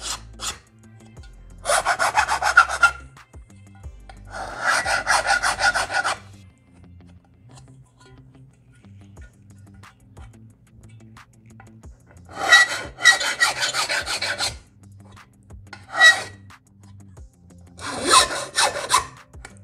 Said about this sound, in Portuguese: Então eu vou passar a lima